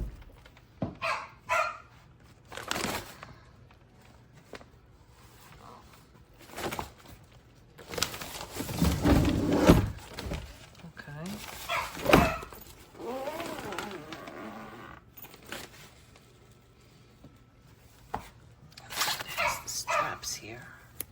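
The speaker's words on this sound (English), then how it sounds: "I apologize for our dog. He's in a mood tonight." A dog in a mood barks and yips indoors in repeated loud bursts, with whimpers between, while people talk nearby and the barking drowns out parts of their speech.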